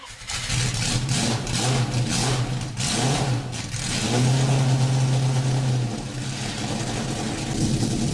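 A 1991 Jaguar XJ15 starting up in the racing game Driving Empire: a long cranking start that catches into a deep, steady engine drone with revs rising and settling, loud and alone for about eight seconds.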